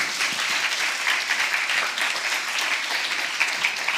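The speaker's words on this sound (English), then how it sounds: "Please, a round of applause." Sustained audience applause in a lecture hall after a speaker's introduction, a steady dense wash of many hands clapping at even loudness throughout.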